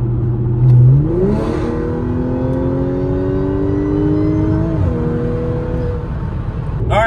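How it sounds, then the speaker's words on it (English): A modified 100k-mile Audi B8.5 S4 on a test drive. The engine revs sharply, then pulls steadily upward through a long climbing tone, shifts near the end, and keeps humming from inside the car, loud and close. "We're going to go out and take it for a test drive."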